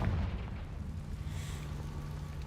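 A Confringo fire spell blasts in Hogwarts Legacy, a dense roaring burst that fills the clip loudly, with a brief pop at the start and a rumbling, crackling body throughout.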